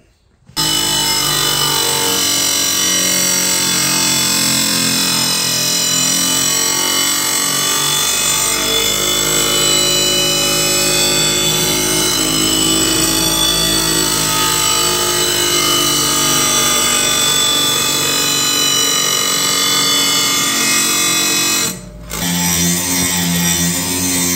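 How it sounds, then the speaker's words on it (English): Steel blade of a homemade kindling splitter being sharpened with a power tool, a continuous loud grinding whine running steadily for about twenty seconds with one brief break near the end. "Now we just gotta sharpen the blade right here, all the way down."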